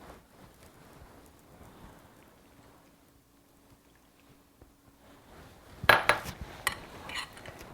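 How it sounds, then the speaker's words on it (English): Boiled potatoes are mashed in a pot with garlic and unsweetened almond milk for dairy-free mashed potatoes. Soft, wet squishing and scraping build into louder clanks of the masher against the pot near the end. No one speaks. "Continue to mash."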